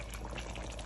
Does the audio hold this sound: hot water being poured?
yes